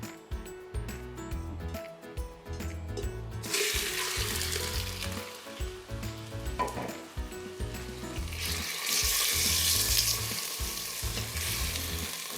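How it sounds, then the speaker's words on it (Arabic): Meat frying in vegetable oil for a rice and peas dish sizzles loudly and continuously in a pan, with intermittent stirring clatter and scraping close by and bursts of stronger hissing. "حط لها شويه زيت بلد، زيت نباتي، بنقليها"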